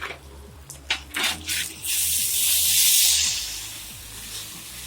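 Potatoes sizzling on a flat top griddle give a broad, steady hiss that swells and fades, preceded by a few sharp spattering pops, close and fairly loud with no talk.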